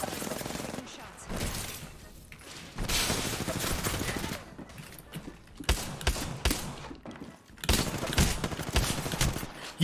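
Bursts of automatic weapon fire in the Apex Legends video game, several loud rapid volleys separated by short pauses, with sharp impacts and mechanical clicks between them.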